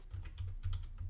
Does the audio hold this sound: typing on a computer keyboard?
yes